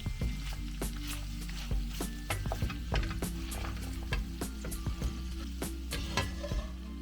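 Pork sizzling and frying in a pan with its drained fat, juices and sauces, a steady close crackle with scattered sharper pops and occasional stirring clatter, no voices.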